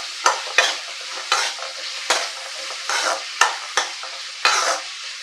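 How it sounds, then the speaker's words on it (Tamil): Onions with curry leaves sauté in a pan for a goat trotter curry, a steady frying hiss broken by about eight regular scraping stirs close by, with no talking. "நல்லா வதங்கட்டும்"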